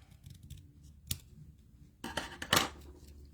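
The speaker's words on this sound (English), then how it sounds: "And then I'm going to just cut off a little bit here." Scissors snip paper for a handmade card at close range. A few crisp cuts and clicks come with quiet pauses between them, and there is no talking.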